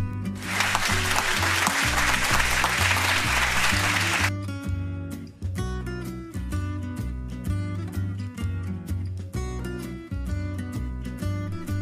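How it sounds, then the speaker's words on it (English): A burst of audience clapping in a classroom during an alphabet game, loud and dense for about four seconds before it cuts off and gives way to rhythmic music with a steady beat. "Let's applaud her."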